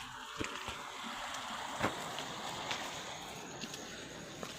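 Water from higher ground flowing into a flooded pigeon pea field, a faint steady rushing and trickling with soft wind noise and a few light splashes.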